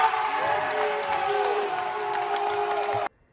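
A crowd roaring and cheering at a basketball game in Chase Gymnasium, a sustained loud mass of voices and whoops that cuts off abruptly near the end.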